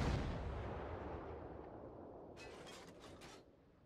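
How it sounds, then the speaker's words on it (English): A destroyer fires high-explosive shells in World of Warships, a deep heavy boom that fades slowly, followed by a few faint crackling bursts near the end. "he switched back to high explosive and currently shooting at an enemy battleship"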